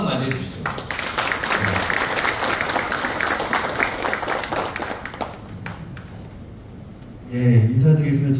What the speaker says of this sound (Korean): 위원장님 박수 한번 맞이해주시죠.